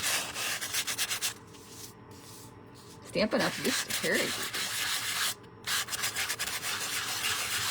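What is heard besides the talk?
sanding paper card with a nail file sanding block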